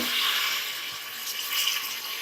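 Water pours into a pot of turnip mutton curry (shaljam gosht) after the meat has been lightly browned, making a continuous soft hiss and splash of moderate loudness.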